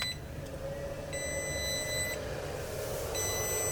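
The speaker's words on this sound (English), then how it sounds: "it powered up. You heard that beep." Electronic beeps from a large LiFePO4 motorcycle battery charger powering up, a couple of steady tonal beeps repeating over a constant hum and background noise, with no talking.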